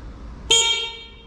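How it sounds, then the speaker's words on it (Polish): A Yamaha Raptor quad with a swapped MT-07 engine gives one short, bright, loud honk of its horn. The note fades over about half a second, with no talk. "klakson nawet działający."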